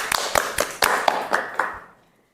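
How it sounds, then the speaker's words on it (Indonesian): Students clap for a group presentation in a university classroom, producing a short burst of scattered, uneven claps that quickly thin out and stop. "beri tepuk tangan untuk kelompok 2."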